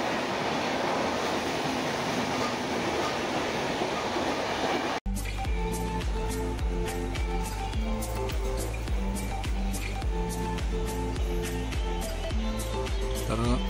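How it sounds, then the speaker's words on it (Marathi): A Mumbai local train pulls away from a station: after a noisy crowded opening, steady rhythmic clickety-clack of wheels over rail joints with a droning motor tone, close and continuous. "बघा ही ट्रेन सुटलेली आहे।"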